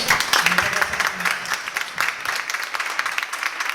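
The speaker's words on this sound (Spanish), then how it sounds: "Así que un aplauso para ustedes, chiquillos." An audience applauds after a storytelling talk at an entrepreneurship event, a dense burst of clapping that thins out over a few seconds, with a voice faintly underneath.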